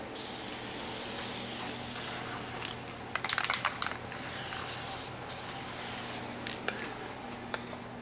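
A steady hiss of spraying from a spray can, continuous and fairly quiet, with a few short clicks and rattles mixed in.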